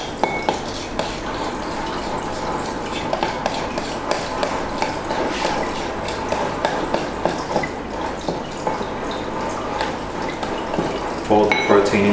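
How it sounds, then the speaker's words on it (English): A spoon folds protein powder into thick yogurt in a bowl, producing continuous soft wet stirring and scraping with occasional small clinks, close up, under a faint steady background. "Fold the protein into the yogurt."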